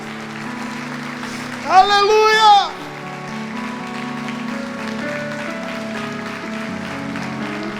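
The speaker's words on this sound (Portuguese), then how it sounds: "Vamos aplaudir ao Senhor" Church congregation applauding the Lord during a Portuguese-language service, a short burst of clapping under a sung or shouted hallelujah, with a steady murmur of voices and keyboard tones continuing afterward.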